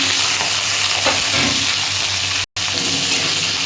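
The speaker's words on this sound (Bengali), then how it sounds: "তেল গরম হয়ে গেছে, আমি আলুগুলো দিয়ে দিলাম।" Potato pieces fry in hot oil in a wok, giving a loud, close, continuous sizzle with stirring noises and a momentary break near the end.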